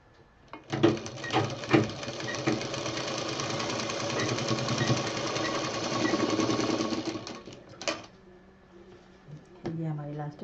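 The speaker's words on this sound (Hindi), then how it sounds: "अब हमें इसे सिल देना है।" A sewing machine stitches elastic onto a fabric cover in a steady, close mechanical whir lasting several seconds, preceded by a few short bursts and ending with brief starts and stops.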